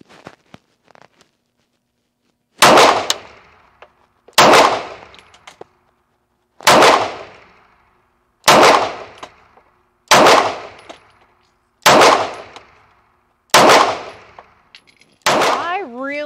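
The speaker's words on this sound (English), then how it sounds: "I'm gonna shoot some more through this" Eight loud, sharp gunshots fired through a Cosaint Arms COS11 suppressor, evenly spaced about a second and a half apart, each with a sharp crack and a short decaying tail, close and alone.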